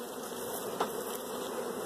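Honey bees buzz around an open hive during a spring brood nest inspection, a dense, steady close-up hum that holds for the whole moment with one brief bump midway and no voices.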